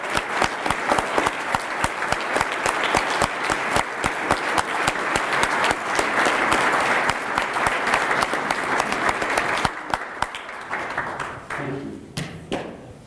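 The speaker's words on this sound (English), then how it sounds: "the rest of us just join in a round of applause" An audience at the 2020 CMC awards ceremony applauds the recipients' families, a dense clapping roar with distinct individual claps that thins out into a few scattered claps at the end.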